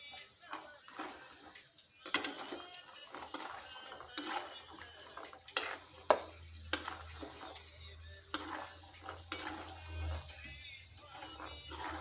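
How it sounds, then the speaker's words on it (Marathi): Almonds and cashews fry in hot ghee with a soft, steady sizzle, and a spoon stirring and scraping the pan adds irregular clinks and knocks; faint and close. "तूप चांगलं तापलेलं आहे म्हणून जास्त वेळ ठेवायचं नाही आपण फक्त थोडासा कलर चेंज झाला बदाम आणि काजूचा काढून घेऊया आपण"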